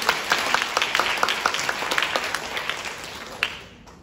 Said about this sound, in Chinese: 给自己一个掌声。